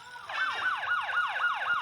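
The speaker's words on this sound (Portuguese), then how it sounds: "Daquela sirene lá, ó." Police car siren in the motorcycle game Elite Motos 2, a rapid wailing yelp sweeping up and down about six times in under two seconds, clear and moderately loud with no talk.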